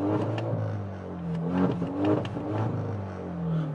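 A catless, straight-piped Alfa Romeo Giulia engine revs steadily, with rising and falling revs and a raspy exhaust tone heard from nearby.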